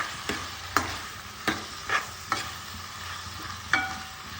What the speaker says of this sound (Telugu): బాగా రోస్ట్ చేసుకోవాలి.